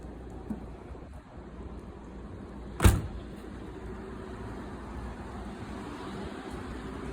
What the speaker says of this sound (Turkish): Şimdi aracımız burada yağmur yağıyor şu anda.